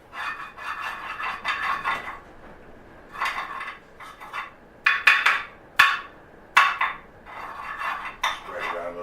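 Butter or margarine is scraped and spread across a pancake griddle with a metal utensil, a series of close, rasping strokes in irregular bursts with sharp clinks between them.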